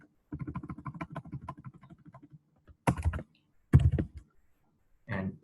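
Keys clatter on a computer keyboard as a command is typed, a quick run of light taps followed by a few heavier separate key presses, close and clear with no talk.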